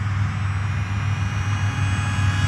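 Aeroscout RC airplane with a pusher propeller flying under power in acrobatic mode, giving a steady, continuous engine drone with a low hum, fairly close and constant throughout.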